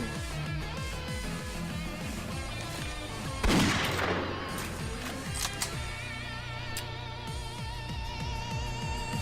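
Rapid bursts of gunfire ring out in a Roblox game over a constant engine-like drone, with one loud volley near the middle and scattered sharper shots afterward.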